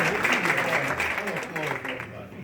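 Guests applauding at an 80th birthday party, a moderate spread of clapping that carries on steadily beneath overlapping voices nearby.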